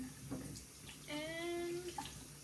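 Tap water runs and splashes as a face is rinsed after a homemade face wash, a brief, fairly soft flow close by with small splashing.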